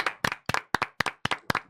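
A few people clap for a comedian at a South Florida comedy show, giving seven distinct, evenly spaced claps that come close and fairly loud with no talking.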